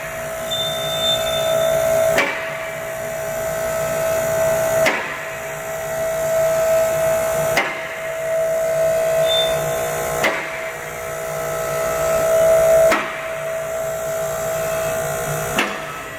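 A vehicle lift in an oil-change workshop raising a car, a steady motor whine with a regular sharp clack every few seconds as the safety locks engage at each level.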